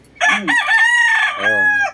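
A fighting rooster crows loudly and close by, one long drawn-out cock-a-doodle-doo call.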